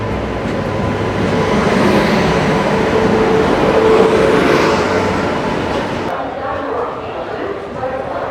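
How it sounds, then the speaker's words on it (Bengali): The 13021 Mithila Express pulls into platform 2 at a station, a loud, broad rumbling roar swelling and easing over several seconds, then dropping to a quieter rattle, with voices in the background. "নির্ধারিত সময় থেকে 4 মিনিট লেটে এসে পৌঁছালো মিথিলা এক্সপ্রেস 2 নম্বর প্ল্যাটফর্মে"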